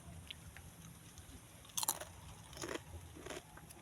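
Soft, close crunching of someone chewing chips at a goat pasture, a few crisp bites standing out against a quiet outdoor background.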